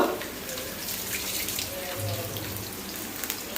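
Tap water runs steadily into a sink, a soft continuous splash with faint rustling of something being washed.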